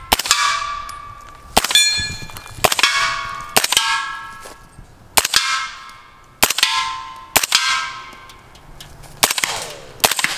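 Rifle shots through a Leonidas Gen2 Integral 300 Blackout silencer: about eight sharp, metallic cracks, each followed by a ringing, clanging decay, fired at an uneven pace outdoors.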